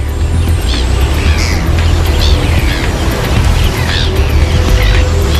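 Gulls call repeatedly in short rising cries over a feeding frenzy, with constant loud rushing water and low rumble, busy and overlapping throughout.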